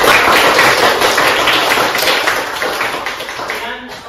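A classroom group claps for a student team after their presentation, a dense patter of hands that runs steadily and slowly fades toward the end.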